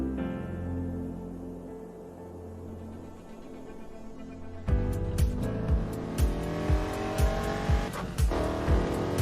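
Racing car engine audio from the Need for Speed Heat video game, a steady drone that suddenly jumps louder into a revving roar with repeated gear-shift surges and tire squeals, running continuously with no talk.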